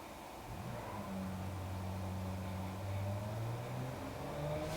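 A car engine revs in BeamNG.Drive, its pitch rising and falling in smooth sweeps under a steady whir, loud and close with no voices over it.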